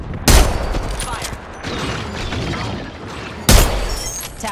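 Video game gunfire: two heavy, sharp shots about three seconds apart, loud and close, with clattering combat noise and rumble filling the gap between them.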